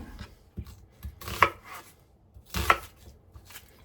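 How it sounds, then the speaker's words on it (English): Onions being cut into big chunks on a board, a few distinct knife chops spaced about a second apart, close and fairly quiet with soft handling sounds between. "you want to take your onions and you want to just cut them into, also you want to cut them into big pieces also"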